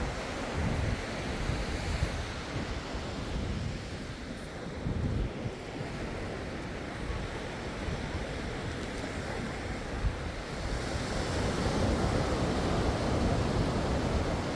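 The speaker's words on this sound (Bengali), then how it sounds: "সমুদ্রের তর্জন গর্জন দেখলে কার না ভালো লাগে" Sea waves roar continuously onto the shore at Saint Martin's Island, Bangladesh, a loud, dense wash of surf with gusts of wind buffeting the microphone and no voices.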